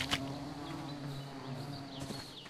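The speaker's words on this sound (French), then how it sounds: "je me fais attaquer par les abeilles" Bees swarm and buzz in the video game ARK, a steady droning hum with a couple of sharp hits as they attack, heard fairly quietly without talk.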